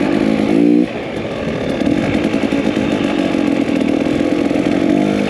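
Yamaha PW50 two-stroke dirt bike ridden through sand, its buzzy engine droning steadily close by with small shifts in revs and no voices.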